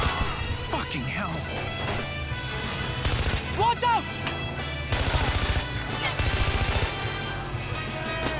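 Gunfire in the shooter game Far Cry 4, bursts of rapid shots and crashes under a busy mix of game music and effects, with people shouting over the action.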